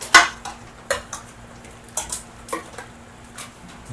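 Chicken afritada stirred in a cooking pot with a metal utensil, a series of sharp clinks and scrapes against the pot at an uneven pace, close and clear with faint background hum.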